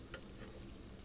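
Egg omelette with shrimp heads frying in hot oil, a steady close sizzle with a couple of brief crackling pops, no voices over it.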